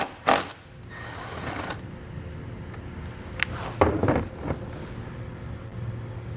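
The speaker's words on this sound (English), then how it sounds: "We'll now remove the nut located here with a 10mm socket." A ratchet with a 10mm socket removes a nut while installing a battery charge line kit for a towed vehicle, giving close, brief clicking bursts against a wind-buffeted outdoor background.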